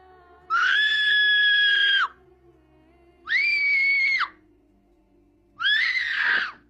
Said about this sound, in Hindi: करीबी गार से एक लड़की की चीख सुनाई दी।